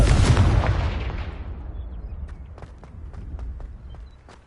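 A Confringo fire spell in Hogwarts Legacy bursts in a loud, booming explosion that decays over a couple of seconds, followed by a run of quick footsteps.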